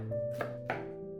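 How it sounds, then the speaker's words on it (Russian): Two crisp knife chops through onion on a cutting board, close and fairly loud, with a steady low hum behind them. "мелко нарежем лук"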